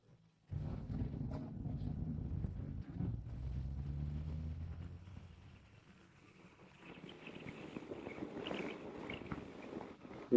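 A BMW R 1300 GS motorcycle engine runs during an on- and off-road test ride, a loud steady drone with wind buffeting, easing off midway and then building again with a rising, rougher note toward the end.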